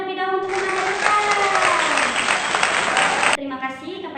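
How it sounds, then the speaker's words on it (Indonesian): Audience applause for a speaker at a seminar, a dense burst of clapping lasting about three seconds, set between stretches of someone talking over a microphone. "Tepuk tangan terlebih dahulu untuk pemateri kita"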